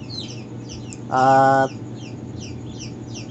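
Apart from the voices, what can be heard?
chickens clucking with baby turkeys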